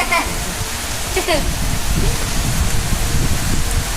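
Monsoon rain pours down on a village in Ratnagiri, a dense, steady hiss of falling water with brief faint animal-like calls briefly rising above it.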